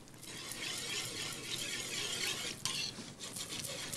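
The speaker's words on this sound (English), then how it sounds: "Now, start whisking right away." Whisk stirring a flour roux into simmering corn chowder in a pot, a steady soft swishing and scraping with occasional clinks against the pot, close and quiet, no talking.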